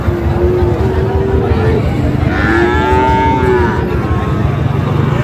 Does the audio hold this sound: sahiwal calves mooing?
yes